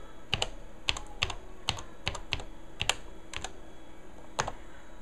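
Keys clack on a Tandy 1100 FD laptop keyboard as a password is entered, a run of sharp, close, irregularly spaced keystrokes with no talking.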